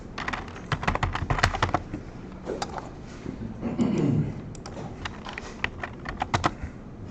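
Close keystrokes on a computer keyboard as a command is typed into PowerShell, a quick irregular run of clacks with a brief pause and a louder rustle midway, then more scattered taps.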